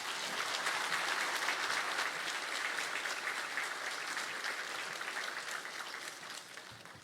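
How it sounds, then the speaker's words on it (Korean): A church congregation at a Sunday service in Daejeon gives a steady, even round of clapping that welcomes the preacher, dense and sustained for several seconds before tapering off slightly at the end. "우리 감독님 나오실 때 환영합니다 하는 마음으로 박수로 맞아주시죠"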